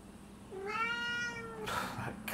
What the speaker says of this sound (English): That cat is just so chatty.